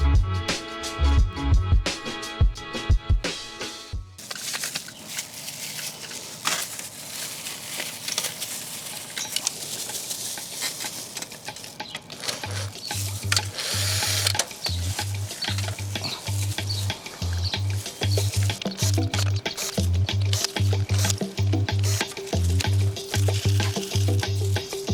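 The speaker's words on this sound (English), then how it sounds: "I'm going to have to like literally douse this entire PC like crazy" Cleaner sprayed over a very dirty desktop PC, a sustained close hissing spray with wet patter, broken by an intermittent low rhythmic thumping hum in the background, no talk.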